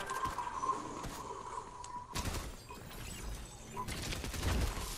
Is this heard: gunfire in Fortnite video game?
yes